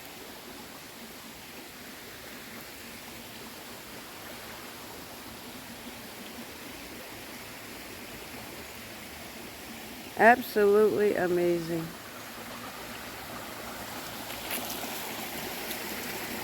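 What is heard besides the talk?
waterfall stream flowing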